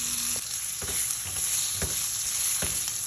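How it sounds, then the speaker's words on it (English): Meat browning in a pot gives a steady close sizzle, broken by a few sharp knocks and scrapes of a spoon against the pot, with no talk. "We're just going to go ahead and let this simmer, brown, cook a little bit more"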